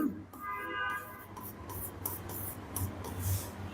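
Marker or chalk scratching and squeaking across a board in short strokes during an English grammar lesson on articles, quiet and close, with faint room noise around it.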